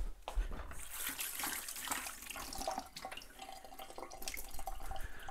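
Tap water runs and splashes over a vegetable being rinsed in a kitchen sink, a continuous hissing stream with shifting splatter as it is turned under the flow, close and moderate.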